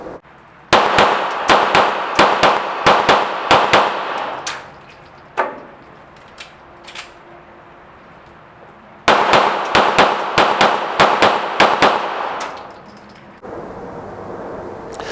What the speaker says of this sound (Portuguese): Dá uma olhada aí os disparos a 10 metros.